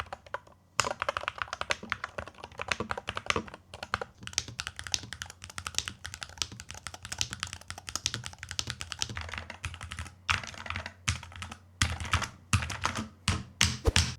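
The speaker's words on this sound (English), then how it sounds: "This keyboard produces a louder, harder sound when typing." Rapid typing on an AKKO FUN68 mechanical keyboard, a dense, steady stream of loud, hard, close clicks and clacks with brief pauses, no voice heard.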